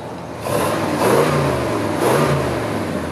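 A 1966 Chevrolet Caprice with a 396 big-block V8 rumbles at low speed, its deep exhaust note swelling in two gentle surges before settling back.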